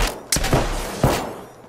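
Gunfire from the Apex Legends battle royale shooter: a few quick, sharp shots in short succession, moderately loud, with game ambience between them and no speech.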